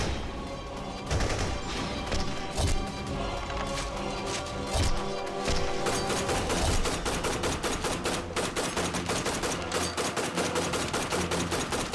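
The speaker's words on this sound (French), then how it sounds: "Est-ce que ce sont des coups de feu?" Dense, continuous bursts of rapid gunfire, loud and relentless, like automatic weapons firing over a rumbling background.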